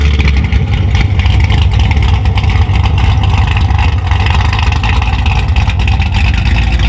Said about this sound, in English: it sounded like a classic muscle car